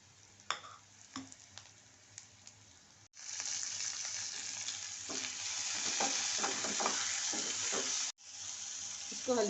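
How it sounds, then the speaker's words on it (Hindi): Tomatoes and onions fry in a pan on low heat, with faint stirring clicks at first, then a steady close sizzle that swells for several seconds, breaks briefly and resumes. "इसको हल्की आंच पे टमाटर और प्याज को करना है"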